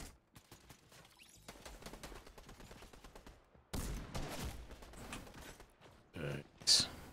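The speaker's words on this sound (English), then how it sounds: "Missing all the shots." Gunfire in a Fortnite gun game match, bursts of rapid automatic shots and scattered single shots, loud and close, with a sharp impact near the end.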